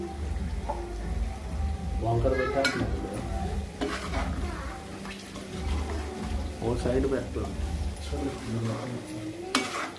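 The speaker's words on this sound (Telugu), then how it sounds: "సో లిడ్ ప్లేట్ పెట్టేసుకొని బాగా ఫ్రై అవనివ్వాలి" Yam (kanda) curry frying in a pan, with repeated scraping stir strokes and clinks of a utensil against the metal over a low sizzle, while a voice talks intermittently.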